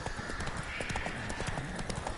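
Galloping hooves of Roach, the horse in The Witcher 3, a quick steady clip-clop rhythm close and clear over a background music bed.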